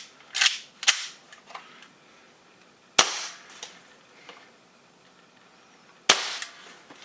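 Six sharp airsoft gun shots fitted with a UAC Hi-Flow valve and enhanced hammer spring crack out in irregular pairs and singles, loud and close, with brief ringing tails and quiet gaps between.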